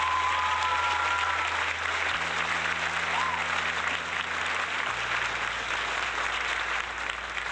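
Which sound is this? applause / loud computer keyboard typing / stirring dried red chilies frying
applause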